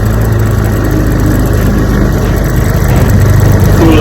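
A 1973 Johnson 9.5 HP outboard motor idles during a lake test run, producing a loud, close, steady low rumble with an even, unbroken drone.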